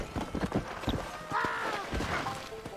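Horse hooves clip-clop in Red Dead Redemption: a quick run of hoofbeats, then more hoofbeats under brief game sounds and a faint voice.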